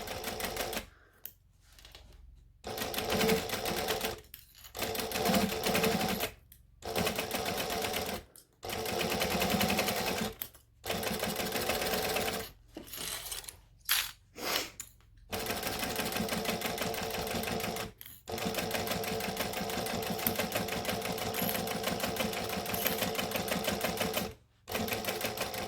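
Sewing machine stitching a project in bursts, its rapid mechanical whirr starting and stopping repeatedly with short pauses, then running in a longer steady stretch, close and loud without talk.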